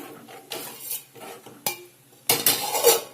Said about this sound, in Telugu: ఒకసారి కలపండి కలిపేసి మూత పెట్టండి